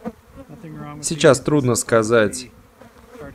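Irritated honeybees buzz in a steady drone close by around a hive while someone speaks over them.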